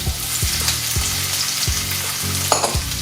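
Diced white onion, tomatoes and green peppers sizzling steadily in a hot pan, a constant close frying crackle with a few soft scrapes from stirring, no talking.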